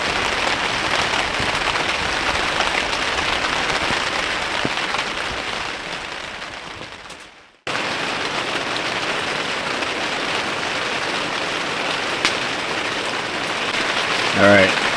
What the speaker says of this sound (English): It's raining so much that the water's starting to creep in, starting to get inside the tent.